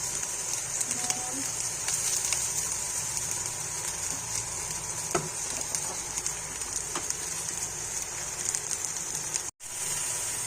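Spices with turmeric sizzle in a hot pan, a steady, close frying hiss with occasional light clinks of a utensil, and no talk.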